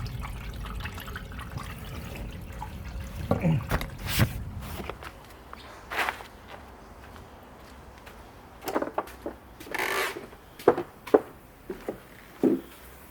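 Water runs and gurgles down a sink drain in a lumber mill, faint and intermittent, with scattered knocks, drips and footsteps around it.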